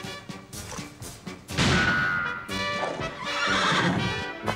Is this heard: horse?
yes